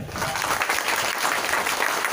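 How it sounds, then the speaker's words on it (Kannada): Loud applause from a crowd of schoolchildren at a school stage event, dense rapid clapping that holds steady and close throughout, with no speech over it. "ಅವರಿಗೆ ಇನ್ನೊಮ್ಮೆ ಮಕ್ಕಳಿಂದ ಜೋರಾದ ಚಪ್ಪಾಳೆ"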